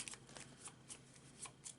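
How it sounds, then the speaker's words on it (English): A brand new deck of cards shuffled during a Shadows of Brimstone board game session, quiet riffling with repeated soft flutters and a few crisp snaps, close and alone. "We'll shuffle the brand new deck."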